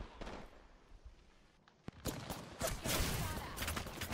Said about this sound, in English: Now that team's shooting at us too.